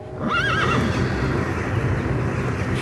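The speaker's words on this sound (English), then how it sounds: "stomping horse hooves, approaching very fast" A horse whinnies loudly up close, followed by hooves clomping and stomping as the animal approaches fast, set in a forest scene.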